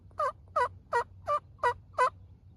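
Wild gobbler on public land calling in six evenly spaced short, throaty bursts, moderately close against a low steady background hum.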